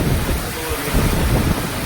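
Steady rain shower falling at Marleshwar temple, an ancient Shiva cave temple high in the Sahyadri hills of Konkan, a dense continuous hiss with wind rumble, loud and close.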